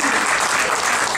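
An audience at an Aligarh Muslim University alumni association show claps loudly and steadily along to a song, a dense, continuous wall of applause from a large crowd throughout.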